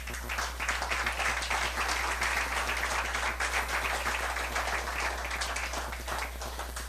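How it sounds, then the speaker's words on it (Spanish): A church congregation applauds during a Spanish-language sermon on the Psalms. The clapping is steady and dense, sustained for several seconds over a low constant hum. "Den un aplauso al Señor"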